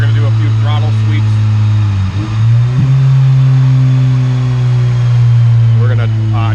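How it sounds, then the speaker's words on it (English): Honda CR-V with an all-motor B20V engine on a dyno, revving in a steady loud drone that dips briefly and climbs again, with talk over it. "now what we're going to do is we're going to do a few throttle sweeps"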